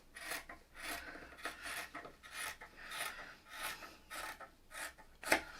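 Very small scissors trimming fabric quilt pieces, a quiet close run of rhythmic rasping snips about every half second, ending with one sharper click.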